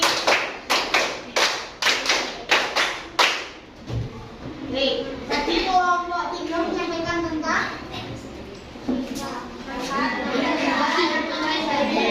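A school class performs a patterned group clap, sharp unison claps in a rapid rhythmic sequence repeated twice, followed by children's voices and chatter with an adult speaking in a classroom.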